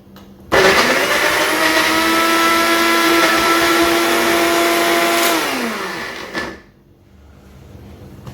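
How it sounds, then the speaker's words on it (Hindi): An electric blender grinding ginger and garlic into a paste, starting abruptly with a loud, steady whirring roar that holds for about six seconds, its pitch sagging slightly before it cuts off and a brief clatter follows. "चलें अब हम अदरक और लहसुन को ब्लेंड कर लेते हैं।"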